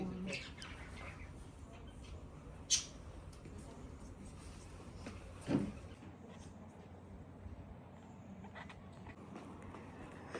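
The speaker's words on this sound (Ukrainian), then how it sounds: "Вау! пташечки." Faint bird chirps come through a quiet outdoor street scene in Alicante, Spain, with a couple of sharper calls and people talking softly nearby.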